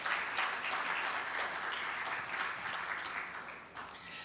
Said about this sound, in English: let's have a round of applause for Dr. Pelajani.